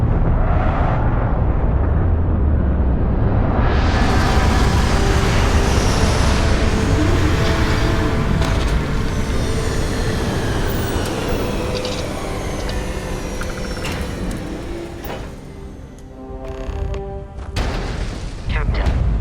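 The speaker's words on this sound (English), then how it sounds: "Landing struts primed, retros firing." A spaceship sets down in Starfield as its retro thrusters fire, making a loud, sustained roaring rumble with rising mechanical whine and creaks that eases toward the end, while a voice speaks over it.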